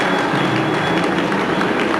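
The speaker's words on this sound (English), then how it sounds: "Give a round of applause." A film set crew claps in a dense burst of applause for two seconds, close and loud and continuous.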